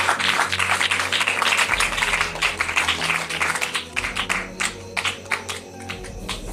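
A church congregation applauds for Jesus, with a dense wash of clapping that begins strong and then thins into scattered, uneven claps over a low hum, filling the room at close range.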